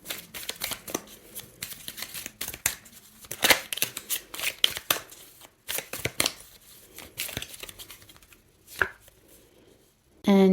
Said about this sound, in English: focus on that while I shuffle the cards and get an answer